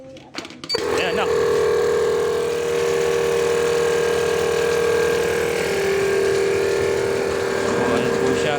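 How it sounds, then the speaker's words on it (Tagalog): Small electric motor of a homemade foaming machine mixing soap and water starts up after a click and then runs with a steady, loud, whining hum. "Ayan po yung motor."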